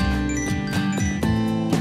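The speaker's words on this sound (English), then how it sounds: "And then make your GoKey ring so you can find it." A GoKey smart keychain gives off a bright, repeating electronic jingle of bell-like chime tones with clear harmonic pitches, played as several quick rhythmic bursts at close range with no voices.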